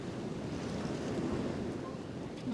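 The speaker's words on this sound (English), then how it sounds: "It was very windy down there." Steady wind gusting at a small beach wedding ceremony by the ocean, a continuous broadband rush with surf-like roar and microphone buffeting throughout, loud and unbroken.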